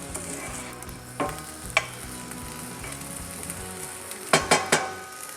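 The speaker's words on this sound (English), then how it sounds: "we're gonna cook this down for about 5 or 6, 7 minutes" Cajun gravy simmers in an antique Griswold cast iron pan, giving a steady low sizzle with soft stirring scrapes and a few brief clinks of a utensil against the iron, the sharpest cluster near the end.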